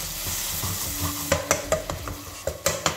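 Tomato and spice masala for chole fries in a pan, a low steady sizzle broken by repeated scraping strokes of a spatula, close and rhythmic, no talking.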